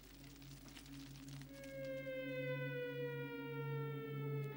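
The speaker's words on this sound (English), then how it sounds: "To the frightening sound of air raid sirens, on the night of August the 11th, Puyi and his family make a panicked departure" Air raid sirens wail over a night departure, one low steady tone joined midway by a rising chorus of higher harmonic tones that swell and hold, loud and sustained with no talking.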